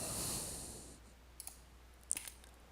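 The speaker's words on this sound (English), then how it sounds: "Right click." A computer mouse right-clicked on a desktop while a 15-minute trading chart is set up: a few small, faint, dry clicks over a soft, steady hum.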